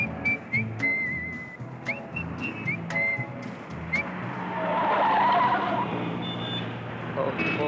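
A car skids hard with a rising tire squeal that swells loudly midway, after a run of sharp whistling tones over a low engine rumble.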